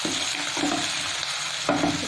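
Curry leaves frying in hot oil with green chillies for a chicken fry, giving a steady close sizzle broken by the scrape and clatter of stirring, with no voices.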